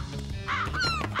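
Harsh, raspy bird calls, a couple of quick caws close by, short and insistent.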